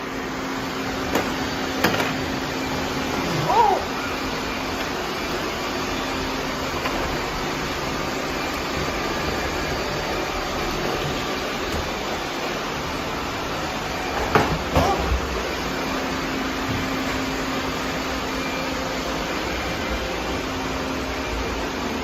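A robot vacuum cleaner runs indoors with a steady, even whirring hum, broken by a couple of faint bumps and clicks partway through.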